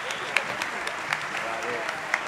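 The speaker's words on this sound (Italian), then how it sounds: "In piedi, ve lo meritate tutto questo applauso." Audience at a band festival night in Ruvo di Puglia applauds steadily from a distance, a continuous even patter with a few sharper claps standing out.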